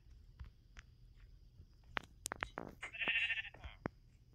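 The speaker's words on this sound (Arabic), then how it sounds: "يلا ارقي ارقي حد الغنم" Sheep bleating in the Minecraft video game, a few short bleats close by amid game clicks and footsteps, with a sustained bleat near the end and no talking.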